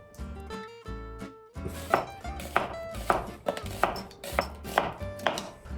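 A knife slices food into quarters on a cutting board, giving a series of sharp, evenly paced chops up close over a low tonal background.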